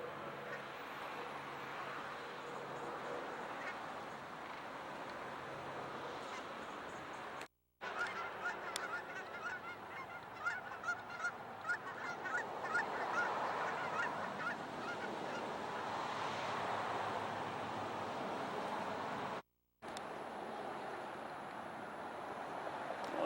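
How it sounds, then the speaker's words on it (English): Geese honk repeatedly at a bird sanctuary in Alaska, a chorus of calls carrying over steady outdoor wind and distant traffic, rising and thickening midway as the flock passes, with two brief dropouts. "Here comes some geese, man."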